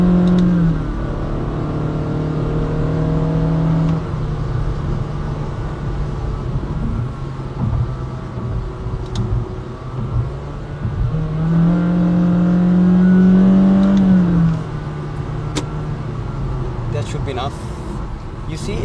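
A car accelerates hard on a highway, its engine note climbing in two distinct surges with a steady road roar beneath, while someone talks over the driving sound.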